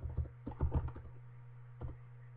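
Keys tapped on a computer keyboard while entering a search word in Cricut Design Space, a short burst of close clicks followed by a pause and one last keystroke, over a steady low hum.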